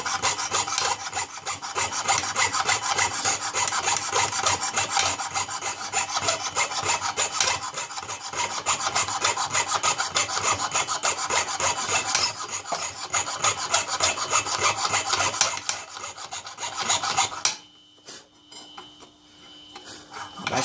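Jeweler's saw with a #6 blade cutting through steel, a close, rapid rhythmic rasping of steady back-and-forth strokes running for many seconds before stopping abruptly near the end.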